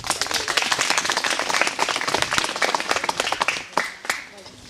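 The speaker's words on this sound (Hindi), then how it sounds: "तालियां बजाओ भाई इसकी" Schoolchildren in a classroom clap for a classmate, a lively burst of individual claps that grows uneven and thins out toward the end, with a voice briefly heard.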